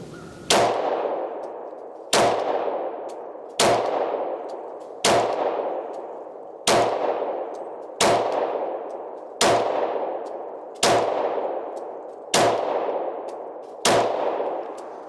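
Sig P226 pistol in .40 caliber fired at steel targets outdoors, ten sharp, loud shots spaced at an even, unhurried pace, each with a ringing decay and no talking.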